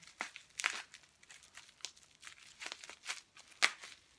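Close, quiet crinkling and tearing of a package of 16mm films as it is cut open with scissors, a series of irregular sharp rustles and snips without talk.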